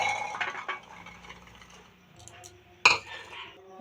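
Peas tip into a mixer grinder jar with a sharp clink and a soft rattle of small ones settling, a short quiet stretch of handling noise around it.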